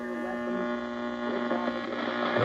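A vintage tube radio warming up gives a steady electrical hum with layered tonal buzz throughout, faint and unbroken, with a slight rise in noise toward the end.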